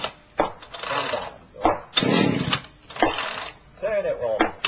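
A chainsaw is pull-started by its starter cord in several quick bursts, each a sharp rasping ratchet of the recoil that stops without the engine catching, with faint speech between pulls.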